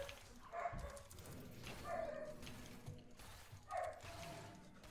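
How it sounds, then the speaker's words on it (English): A dog gives several short, high squeaky whimpers and yips at irregular intervals, fairly faint over a low background murmur. "Heard the dog squeaking."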